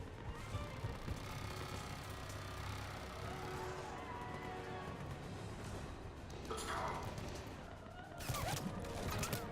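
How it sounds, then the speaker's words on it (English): Gunfire in the video game Mass Effect 3, bursts of rapid shots and crashes mixed into a busy battle soundscape, fairly faint with voices nearby. "Hey, who's shooting civilians?"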